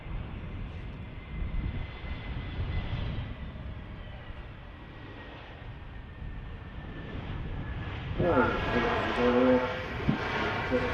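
Aircraft engines roar steadily at Manchester Airport, a broad, fairly loud rumble that swells near the end, with a voice speaking over it.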